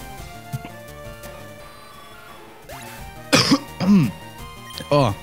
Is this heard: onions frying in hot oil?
no